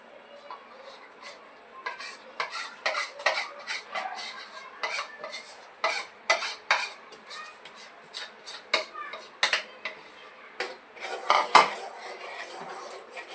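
Repeated clinks and scrapes of a utensil against a metal pot as flour batter is stirred with water to break up lumps, an irregular stirring rhythm, close and fairly quiet.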